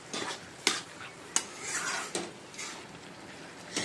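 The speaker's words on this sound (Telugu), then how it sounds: "మొత్తం మిక్స్ చేసుకోండి శుభ్రంగా" Carrot halwa with sugar stirred in a pan, with sharp clinks of a spoon on metal every second or so between soft scraping and faint sizzling, close by.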